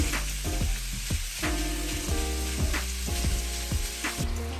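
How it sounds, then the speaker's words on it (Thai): Minced beef stir-frying in a hot pan with olive oil and blended soffritto gives a steady close sizzle, broken by regular scraping stir strokes about once a second, with no talking. "ตามด้วยเนื้อบดผัดลงไปนะคะ ให้มีกลิ่นหอม"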